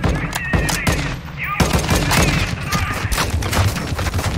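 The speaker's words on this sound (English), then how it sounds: "Oh, we're shooting at the healer now." Gunfire erupts in the Call of Duty MWII DMZ video game, loud rapid overlapping shots and bursts crackling in dense volleys throughout, with brief voice sounds mixed in.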